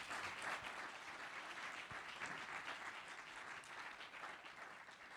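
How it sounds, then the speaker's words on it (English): After a debate on water rights, an audience gives a round of applause: a faint, distant-sounding patter of many hands clapping, sustained evenly without voices. "go ahead and give them a round of applause"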